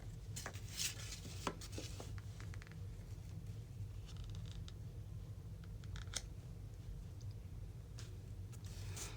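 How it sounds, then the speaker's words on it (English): Small scissors snip at paper while trimming a piece for a handmade card, a string of faint, crisp, irregular clicks over a quiet background hiss. "Then we'll just get our little scissors here and trim that off."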